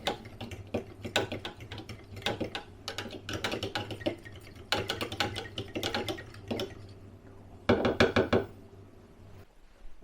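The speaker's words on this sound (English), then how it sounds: "We're going to give that a bit of a stir and get that yeast activating" A spoon stirs yeast into about 60 millilitres of warm water in a bowl for air-fryer pizza dough, giving close, repeated clinking and scraping taps in short bursts with brief pauses, alone without talk.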